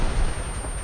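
A rocket launcher fires in the ArmA 3 military shooter game, one heavy booming blast close by that roars briefly and fades, with no voices.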